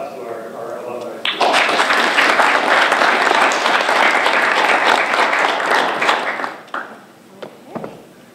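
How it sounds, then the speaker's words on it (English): A big burst of audience applause for alumni at a graphic design career panel, starting abruptly after a voice, loud and dense for several seconds, then fading to scattered claps as speech resumes. "And big round of applause to our alumni."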